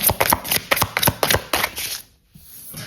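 Tarot cards shuffled for a reading, a quick run of crisp riffling bursts about ten in a row, close and fairly loud, then a short pause and a softer shuffle resuming.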